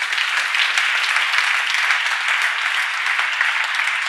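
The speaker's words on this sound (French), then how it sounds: "Je pense qu'on peut l'applaudir parce que c'est exceptionnel." Steady, dense audience applause at an awards ceremony, many hands clapping evenly and loudly from start to finish with no talk over it.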